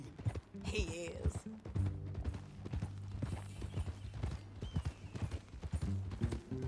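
Horse hooves clip-clopping at a walk in the Red Dead Redemption 2 video game, a steady rhythmic clopping heard under conversation between characters, with a soft ambient tone behind.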